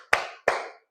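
Two sharp, separate hand claps from a classroom clapping on a count, each crisp and close, spaced about a third of a second apart with silence around them.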